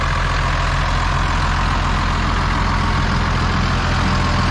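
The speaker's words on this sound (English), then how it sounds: "The newest tractor we've ever had at Upham Lane." A Massey Ferguson 5465 Dyna-4 tractor's diesel engine idles close by with a loud, steady low rumble that holds unchanged throughout, and no one speaks.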